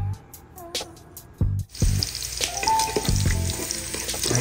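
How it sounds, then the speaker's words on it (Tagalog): Garlic and ginger sauté in a hot pan, a loud close sizzle that swells after a sudden burst as they hit the oil, with clinking stirring sounds and some background music. "pinigisa ko po muna ang ating bawang at ang ating luya"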